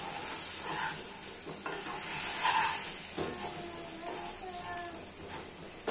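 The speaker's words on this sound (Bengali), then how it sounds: "লবণ ও হলুদটা একটু পটলের সাথে মাখামাখি করে নেব।" Pointed gourd being mixed with turmeric and salt in a pan, with a soft continuous sizzle and faint scraping stirs throughout, fairly quiet.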